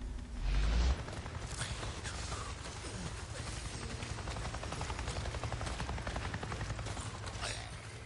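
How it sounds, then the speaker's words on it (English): Helicopter in a PS4 video game flying nearby, a steady low rotor drone and thrum running throughout with a brief louder swell at the start, mixed with whooshing and faint gunfire-like game effects. "I just saw a goddamn chopper!"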